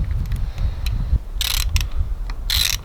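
A ratchet clicks in short bursts while tightening an adapter onto a farm tractor's PTO shaft, the sharp ratcheting heard up close over low rumbling background noise.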